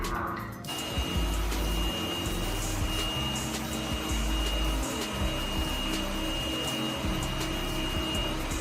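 A steady mechanical whir with a low motor hum runs continuously from a Yeedi vac 2 pro robot vacuum working nearby in vacuum and mopping mode, with no talking.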